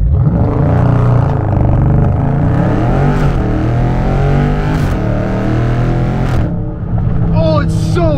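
A 6.4-liter V8 in a Dodge Charger Scat Pack rumbles loudly through a dual-tip exhaust, rising and falling in pitch as it revs, with a deep throaty tone throughout.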